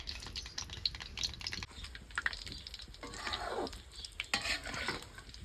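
Muthiya dough for churma ladoo sizzles and crackles in hot oil, with occasional stirring clinks and scrapes against the pan, fairly quiet and close.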